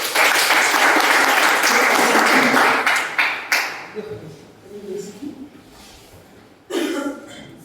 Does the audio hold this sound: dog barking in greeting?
no